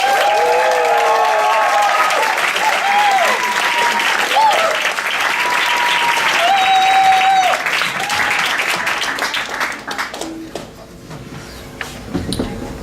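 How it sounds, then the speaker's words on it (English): A crowd at a Bright Club Brussels comedy night applauds loudly and steadily for several seconds as a speaker is welcomed, with whoops over the clapping, then it fades and scattered noise remains. "give a warm round of applause to Christina"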